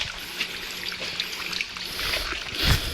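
A weak trickle of water runs down a hot, dry hillside stream bed, heard as a soft, steady bubbling flow close by with faint splashes and no speech.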